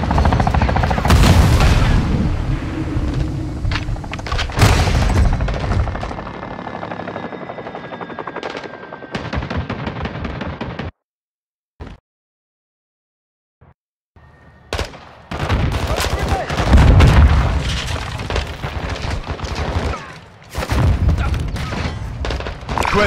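A called-in fire support strike in Call of Duty: Modern Warfare 2 (2022), with heavy, booming bursts of automatic fire and rumbling impacts, then a sudden near-silent gap before loud barrages resume.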